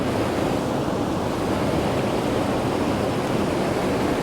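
A river flowing through Glencoe in the Scottish Highlands, heard as a steady, full rushing wash of water that holds a constant level throughout, with no voices.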